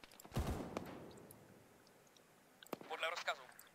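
Cannon fire in the Arma 3 military video game during a Zeus-run tactical operation: two sharp, booming blasts a couple of seconds apart, the second followed by a crackling rumble of smaller reports.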